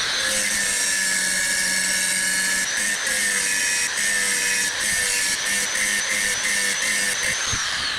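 An angle grinder grinds rusted metal on the chassis leg of a Ford Sierra in a loud, continuous high whine, close and unbroken, with small catches and scrapes as the disc bites the surface.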